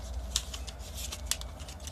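Scissors snipping through material while cutting a strip to pencil length in a hobby craft setup, two crisp close snips about a second apart over a low background hum.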